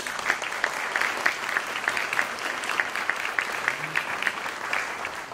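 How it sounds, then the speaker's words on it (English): Moderate applause from a forum audience on college savings accounts honours Rachel Bird, with a steady patter of individual claps audible in a medium-sized room. "And we're going to give Rachel a round of applause."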